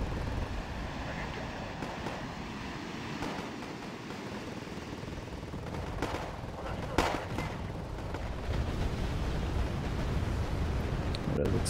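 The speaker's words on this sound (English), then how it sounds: "That explosion was a little too strong." Explosions rumble in the video game Wargame AirLand Battle over a low, noisy battlefield din, with sharper bursts punching through near the middle and the rumble swelling again toward the end.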